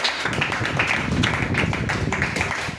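Church congregation applauding together during a worship service to acclaim Jesus Christ, a dense steady patter of many hands clapping close by, unbroken throughout with no talk.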